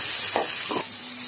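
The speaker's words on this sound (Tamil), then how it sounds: "பூண்டு நல்லா கோல்டன் ப்ரௌன் ஆனோடனே நம்ம வெங்காயத்தை சேர்த்துக்கலாம்" Brief sizzle of garlic and onions frying in oil, with two scraping stirs in quick succession and then a quieter hiss.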